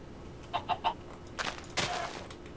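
Chickens in Minecraft give three quick clucks, followed by a couple of louder, longer squawking clucks, fairly close with no talk over them.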